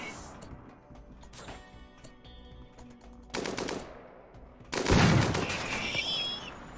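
Turrets firing in the RimWorld video game, rapid bursts of gunfire crackling over a steady background, growing louder with a dense, heavy volley in the last seconds.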